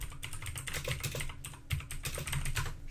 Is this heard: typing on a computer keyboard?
yes